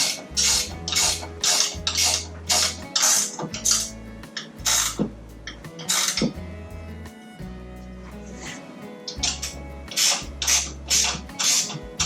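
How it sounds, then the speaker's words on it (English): A gear wrench ratchets while tightening wheel hardware on a DeWalt DWE74911 table saw stand, giving a steady run of close, bright clicking bursts in short repeated strokes over about twelve seconds with no talk. "So all we're going to do is take our gear wrench, get it going the right way, righty-tighty, lefty-loosey,"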